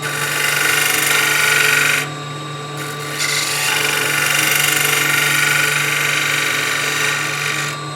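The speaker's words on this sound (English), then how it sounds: "Little shear scrape to clean it up." A shear scraper rasps steadily against a wooden bowl spinning on a lathe, a close, continuous scraping with a brief lighter dip partway through and no talking.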